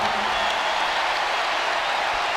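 A basketball arena crowd roars and applauds in a dense, continuous wash of cheering, loud and sustained across the whole moment.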